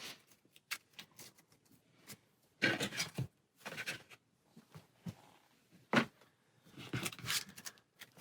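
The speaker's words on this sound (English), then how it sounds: "Go ahead and shuffle these up to make our 3 stacks." Board game cards being shuffled by hand into stacks during solo play, heard as soft irregular riffles and rubbing bursts, close and quiet, with gaps between them.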